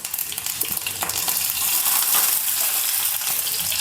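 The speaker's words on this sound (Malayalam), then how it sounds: "പാൻ വെച്ചിട്ടുണ്ട്, എണ്ണ ഒഴിച്ചിട്ടുണ്ട്, എണ്ണ കാനിട്ടുണ്ട്, കടുക് ഇട്ടിട്ടുണ്ട്," Mustard seeds and fenugreek fry in hot oil in a pan, giving a dense continuous sizzle with scattered sharp pops and crackles close by.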